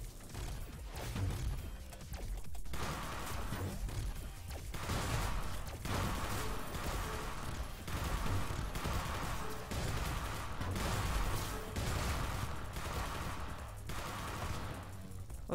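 Missiles and weapons fire in the video game Starward Rogue, a dense, continuous barrage of rapid bursts and blasts running loud and steady throughout with no talking.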